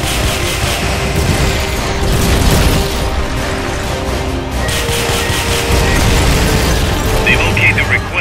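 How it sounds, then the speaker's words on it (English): Cluster bomb explosions in Metal Gear Solid: Peace Walker rumble loud and continuous, a dense wash of booms and crackling bursts with mechanical clatter, carrying on under a voice speaking throughout. "They've okayed the request for supporting fire. It should commence any second now. Cluster bomb!"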